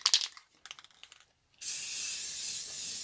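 A steady, continuous hiss from a spray can applying finish to a wooden sign runs for about a second and a half, close and fairly loud, after a few soft clicks and taps.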